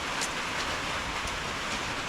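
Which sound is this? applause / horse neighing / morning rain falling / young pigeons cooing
morning rain falling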